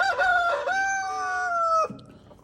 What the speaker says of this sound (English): That's Mr. Rooster here right next to me.